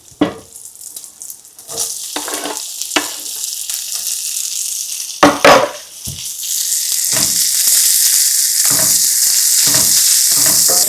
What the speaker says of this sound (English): So I'm going to add my diced onion to it.